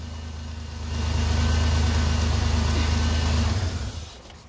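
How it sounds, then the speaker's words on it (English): Car engine running at a steady idle with a low, continuous hum, briefly rising a little in level before being switched off and fading quickly to near silence at the end. "I'm going to shut the engine off real quick just so it's not so loud."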